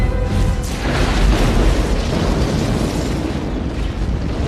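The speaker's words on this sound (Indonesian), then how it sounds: "bom nuklir meledak, menghancurkan kapal induk hingga berkeping-keping." A nuclear bomb detonates and destroys an alien mothership in a science-fiction film, a loud, sustained rumbling blast that fills the clip from start to finish without letting up.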